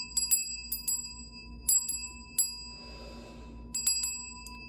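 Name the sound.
bell being rung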